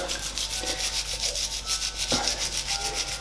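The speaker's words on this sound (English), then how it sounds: "using an old toothbrush, you just want to try and give the gearing a bit of a scrub" An old toothbrush scrubs the dirty gearing of a mountain bike in quick, rhythmic back-and-forth strokes, close and quiet, with a brief scraping knock partway through and no talk.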